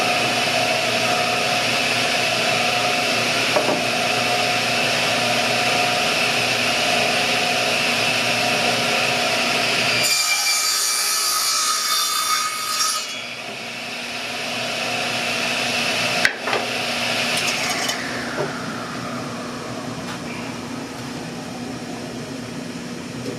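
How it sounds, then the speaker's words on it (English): Power saw cutting the ends off a pallet wood board in a workshop, a loud steady machine whine broken by a short harsh cutting burst, then a clunk and the motor spinning down. "Made a test cut."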